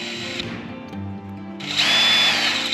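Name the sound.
screwdriver removing a fine-thread screw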